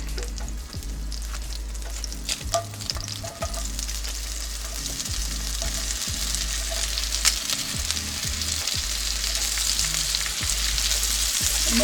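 Onions fry and sizzle steadily on a BBQ cook for a Big Bossman sandwich, a continuous close hiss with scattered pops and scraping clicks of a utensil throughout.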